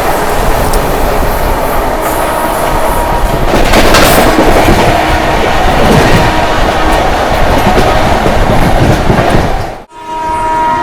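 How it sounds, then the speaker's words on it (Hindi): The Jammu Tawi Sambalpur Express passes at full speed in a loud, steady roar of wheels and rushing wagons with a clickety rhythm and brief horn hints, then cuts off abruptly near the end. "सामने ओवरटेक कर रहे हैं Jammu Tawi Sambalpur express. Full high speed वाला स्किप।"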